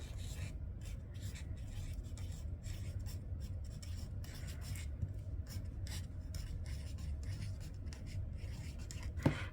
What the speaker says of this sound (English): I'm just gonna write, not with the dot marker